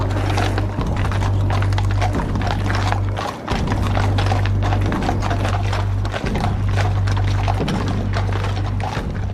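Horses' hooves clip-clop in a quick, steady rhythm during military caisson funeral training, heard over a loud continuous low hum.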